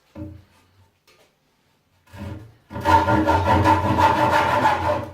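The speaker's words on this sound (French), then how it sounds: "On prend la scie à aiguille pour couper la planche de bois." A fretsaw cuts through a wooden plank, starting with a few short tentative strokes and then settling into a close, steady rasping run of rapid back-and-forth sawing.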